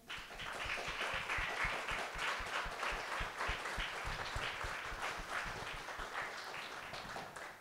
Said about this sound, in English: Let's give ourselves a big round of applause once again.